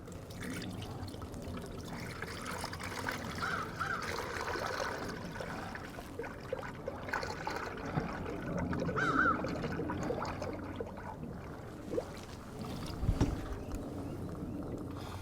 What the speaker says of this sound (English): We're going to go ahead and fill the coolant reservoir for the engine.